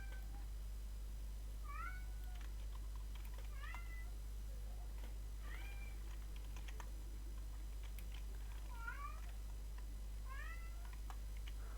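A cat meows repeatedly, five short rising-falling calls spaced a couple of seconds apart, over a steady hum and occasional light keyboard taps.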